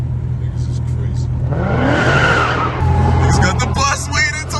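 Cars drift and slide with squealing, skidding tires at a New York street car meet, a long loud tire screech rising over engine revs while onlookers talk nearby.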